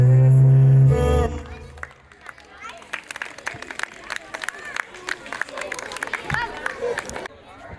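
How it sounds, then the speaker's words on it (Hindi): Audience applause and scattered cheering for a young girl's performance at a school event, a loud burst at the start giving way to sustained, moderately loud clapping from a crowd with background chatter. "एक बार जोरदार तालियां हो जाए इस परफॉर्मेंस के लिए"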